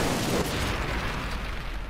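A car explodes in the BeamNG.drive racing game, a loud broad blast that fills the clip and fades slowly with no voices over it.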